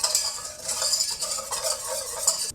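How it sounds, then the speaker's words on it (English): Cocoa powder, white sugar and kosher salt are whisked together in a bowl: quick, scratchy stirring strokes with a light metallic rattle, close and fairly loud, with no talk. "I'm gonna whisk that together"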